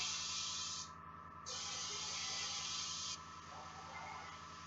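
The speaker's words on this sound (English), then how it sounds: "Just hitting it with some air to speed up drying." Steady airbrush hiss blowing air over a freshly painted French blue power sword blade to dry it, loud and continuous with one short break and a slightly quieter final stretch.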